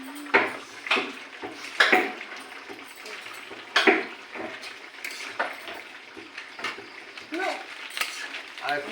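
Chicken pieces stirred and fried in a pan for a chicken jhal tarka, with repeated scraping and clinking of a utensil against the pan over a steady sizzle, close by, with brief speech in between.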